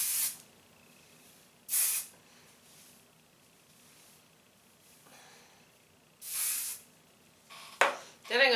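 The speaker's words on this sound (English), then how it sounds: "I'm going to spray my hair." Short aerosol bursts of Carol's Daughter Monoi hairspray misted onto hair, several separate hissing sprays close up with quiet pauses between them.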